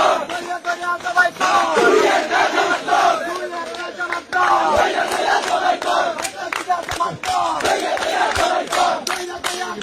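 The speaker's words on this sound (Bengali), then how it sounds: "ইলেকশনে জিতে আওয়ামী লীগের স্লোগান দিতেছে বিএনপি" A large, loud crowd celebrates an election victory by Bangladesh's BNP, chanting Awami League political slogans in rhythmic, overlapping bursts that continue dense and steady throughout, with sharp shouts and claps standing out.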